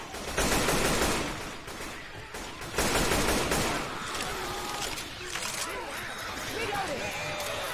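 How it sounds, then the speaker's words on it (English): A new gun fires in Left 4 Dead 2: loud, dense bursts of rapid gunfire, one early and another after a short pause, then quieter game noise with voices talking underneath. "The new gun will sound like a gun"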